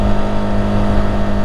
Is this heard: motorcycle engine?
yes